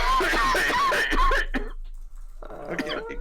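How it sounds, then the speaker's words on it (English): A man with hay fever gives a few short, rough coughs close to the microphone. The coughs are mixed with voices and game sounds. "I've got a hay fever. That's why I'm coughing a bit."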